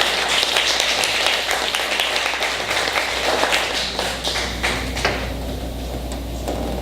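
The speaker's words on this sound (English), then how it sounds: "So I want to give them a round of applause for the work and applaud the efforts that they have" A crowd at a charity concert for soldiers claps loudly and continuously in a large hall, a dense wash of applause that keeps going for the whole stretch.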